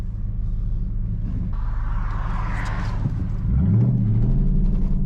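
A 2012 Mustang Boss 302 with sidepipe, SLP Loudmouth axleback and resonator delete idles with a deep throbbing rumble, then revs hard as the tires spin, the engine note climbing and holding loud and close.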